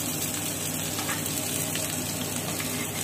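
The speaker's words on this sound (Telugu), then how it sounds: "వేసి బాగా వేయించాలండి" Onions and green chilies frying in hot oil for a country chicken curry, a steady dense sizzle and crackle held close and even throughout, with no talking.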